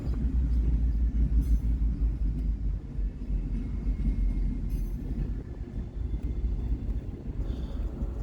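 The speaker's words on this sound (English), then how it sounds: "Waiting for this train to clear, we see Marquette Rail Z151. Waiting to clear with 4 EMDs." Marquette Rail freight train Z151, led by four EMD locomotives, rolls past with a steady low rumble of railcars and occasional faint wheel squeal, sustained and fairly close, no voices.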